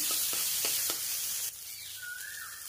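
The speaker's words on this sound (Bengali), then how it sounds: "নিম পাতাটা এবার একটু ভাজা করে নেব।" Neem leaves hit hot mustard oil in a pan with a bright hissing sizzle and a few soft crackles, then the frying settles to a quieter hiss with a faint whine, close and alone.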